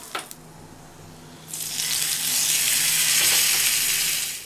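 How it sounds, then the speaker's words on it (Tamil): Mustard seeds, curry leaves and a cut dried chilli crackle in hot oil for an okra curd pachadi tempering: a few sharp pops at first, then a loud, close, steady hiss of sizzling bursts in and carries on to the end, with no talking. "அதில் கொஞ்சமாக கடுகு, கடுகு பொரிய ஆரம்பிச்சிருச்சு"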